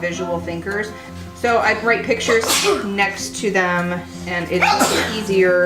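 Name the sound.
sneeze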